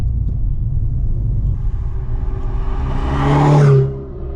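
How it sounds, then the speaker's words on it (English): A Ferrari sweeps past outdoors, its engine note rising from a distant rumble to a loud, revving whir at close range before fading quickly away. "there's a nice Ferrari passing by"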